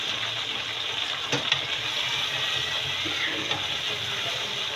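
Raw mango pickle cooking in water in a pan on a stove gives a steady, even hiss and bubbling wash of sound with a few faint clinks, fairly close, without any talk.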